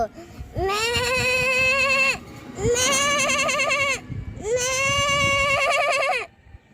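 A child imitates a goat's bleat with the voice, three long wavering calls separated by short pauses, close and loud.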